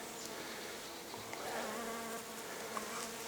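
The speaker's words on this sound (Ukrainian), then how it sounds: "А ось тут жовта акація гудить." Bees hum and buzz around blooming yellow acacia shrubs, a dense steady drone with individual insects passing close now and then.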